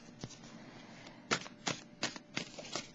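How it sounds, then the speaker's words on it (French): A card is drawn from a deck in a quiet room, making several crisp papery snaps and flicks in a loose rhythm of about five close, distinct strikes. "Je vais piger une carte."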